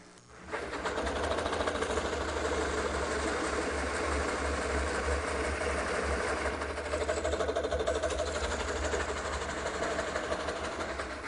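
Easy Core coring cutter running steadily while cutting, a continuous loud motor whir and grinding hum with faint rhythmic texture, sustained without pause and no talking.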